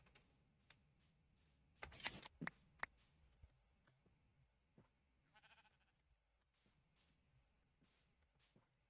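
A sheep bleats once, faint and brief, in a Minecraft airships modpack game, surrounded by quiet scattered keyboard and mouse clicks.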